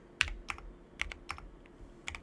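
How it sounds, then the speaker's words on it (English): Letters typed on a computer keyboard in short bursts of crisp, close keystroke clicks with brief pauses between groups, no voices. "just typing all of the necessary letters"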